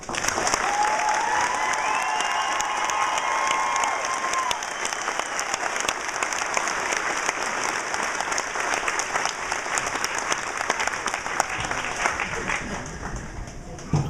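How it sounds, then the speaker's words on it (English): Sustained crowd applause at an army basic combat training graduation ceremony outdoors, broad and steady with scattered whistles and cheers near the start, gradually fading toward the end. "Please join me in giving them a round of applause for these great soldiers"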